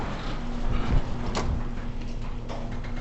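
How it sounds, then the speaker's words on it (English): A warehouse garage door runs with a steady mechanical rumble and rattle, a constant grinding drone with a brief knock partway through, heard up close. "It's still noisy, but it's because that's how this garage door is."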